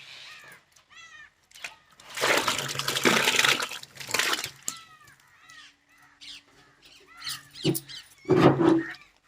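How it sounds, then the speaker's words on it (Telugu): Tomatoes being washed by hand in a large pot of water: a burst of sloshing and splashing in the middle, with crows cawing repeatedly nearby before and after. "మనం తెచ్చుకున్న టమాటీలన్నీ వేసుకొని శుభ్రంగా కడుక్కోవాలి"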